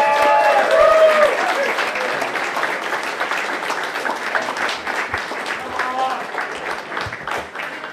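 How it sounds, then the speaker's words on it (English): A crowd at a launch event applauds warmly for a guest being welcomed, dense sustained clapping with a brief voice at the start and cheering under the claps. "give a round of applause to the man of the moment"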